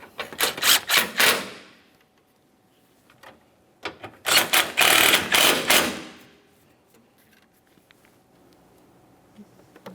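Ratcheting on 12mm-head mounting bolts during AC condenser and receiver drier replacement on a 2011-2020 Toyota Sienna: two quick bursts of rapid, close clicking separated by a pause, with quiet room between.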